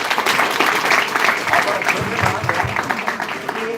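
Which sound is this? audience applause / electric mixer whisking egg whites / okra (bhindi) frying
audience applause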